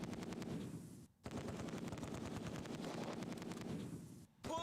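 Heavy gunfire in the Close Combat 2: A Bridge Too Far war game: dense, continuous machine-gun bursts and rifle shots rattle almost without pause, loud and close, broken by two brief gaps of near-silence.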